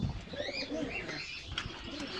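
Pigeons coo softly inside a pigeon loft among nesting pairs, with a few faint chirps over a low background hum.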